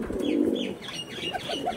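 Pigeons coo close by in a soft, throaty run of low rolling calls with no voices.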